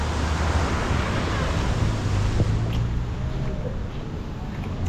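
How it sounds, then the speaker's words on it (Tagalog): Strong surf rolls onto the shore at a beach resort in Lubayat, Quezon, a constant broad roar of waves mixed with wind buffeting the microphone. "Mas malakas po ang alon dito sa lugar na ito."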